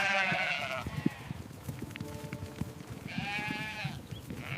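Sheep bleat in a farm setting, with two drawn-out wavering calls at the start and again near the end, separated by scattered shuffling and small knocks.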